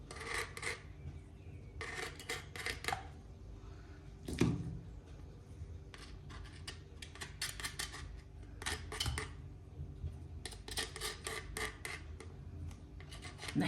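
A knife scrapes around the rims of strawberry tartlet dough cases to trim off excess pastry, giving repeated short rasping strokes in bursts separated by pauses, close and fairly quiet.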